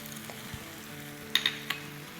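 Okra fries with julienned ginger and sliced green chilies, making a steady close sizzle. Near the end come a few sharp clinks of a utensil against the pan.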